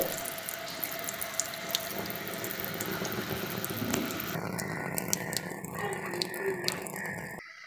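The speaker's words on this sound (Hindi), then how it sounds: "आप यहाँ पर करेंगे तो ये गर्म पानी इस्तेमाल देगा, और ऐसे फेरेंगे तो ये ठंडा पानी देगा।" Water runs steadily from the tap of a Super Asia electric water heater, a continuous splashing hiss with small drips, and the flow changes partway through.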